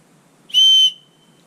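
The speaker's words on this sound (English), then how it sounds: "a whistle." A single sharp, shrill blast from a small survival-kit whistle lasting about half a second, loud and close, then a thin fading tail into quiet.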